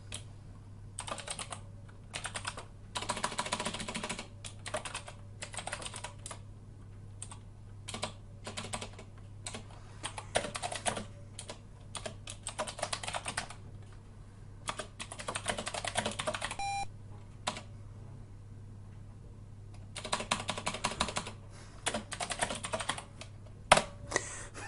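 Bursts of clicky key presses on an IBM PC keyboard as a holiday message is typed line by line, rapid runs of keystrokes separated by short pauses, close and fairly quiet.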